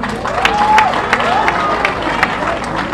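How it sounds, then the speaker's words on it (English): Crowd applause at a World AIDS Day commemoration, a loud busy clatter of clapping mixed with crowd murmur, whoops and a few voices throughout. "Another round of applause for Comrade Steve."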